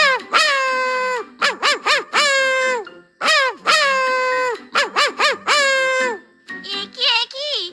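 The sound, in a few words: chickens at a chicken farm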